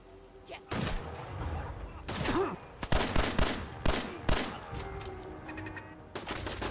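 Automated turret gunfire in Fallout 4, rapid bursts of shots rattling out in several clusters, loud and close, with a short pause before the firing resumes.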